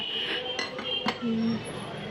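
Household dishes and utensils clink and rattle as they are handled, with a few bright metallic chinks over a steady room background.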